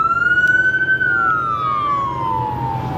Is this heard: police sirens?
yes